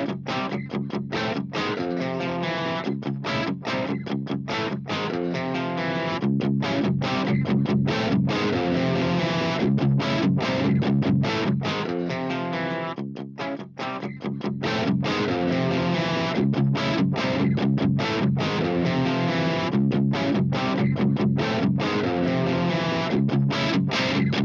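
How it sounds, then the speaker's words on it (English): An electric guitar played through a VHT Pittbull Fifty/Twelve tube amp gives a heavily distorted, dense sustained riff, loud and continuous, with one brief dip midway. "we're gonna see what all kind of tones you can actually get out of this amp"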